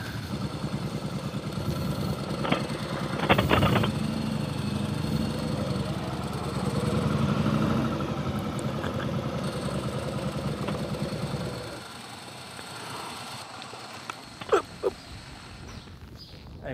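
A motorcycle engine idles steadily at close range, a continuous low rumble being handed over to a new owner, with a few brief knocks and handling sounds before the engine note drops away near the end.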